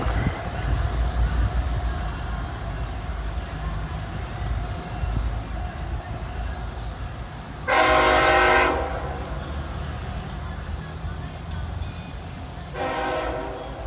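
A freight train rolls down a dip at Cowan, Tennessee, a low distant rumble broken by two loud horn blasts, the first longer, the second shorter.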